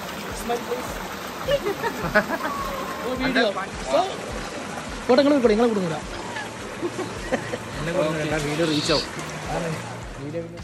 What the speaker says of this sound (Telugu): సౌండ్ కేవలం వాటర్ వెళ్ళే ఫ్లో, ఆ సౌండ్ మాత్రమే వినపడుతుంది.